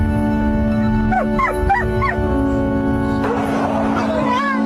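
An abandoned dog whimpering with rising yelps, then a burst of broadband noise and further whines, heard up close over a constant low hum.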